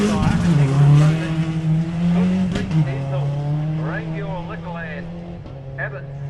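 A Subaru rally car pulls away at a forest rally sprint, its engine note rising through gears and fading as it drives off, under a commentator's continuous voice.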